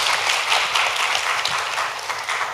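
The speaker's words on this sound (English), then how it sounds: "Let's give them a round of applause." A school audience gives a dense, steady round of applause for secondary school spelling bee contestants after a three-way tie, many hands clapping continuously throughout.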